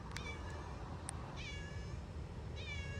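A cat meows a few times, soft and somewhat distant, over a constant low rumbling background noise from a garage where a Lexus with a 5.3 LS swap is being worked on.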